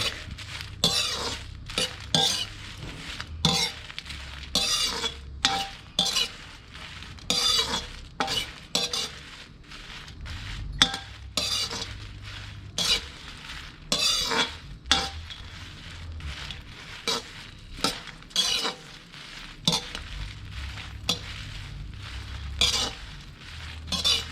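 Chilies stir-roasted in oil in a pan for a Shan dish, with steady rhythmic scraping strokes of a spatula over a light background sizzle, close and continuous, no voices.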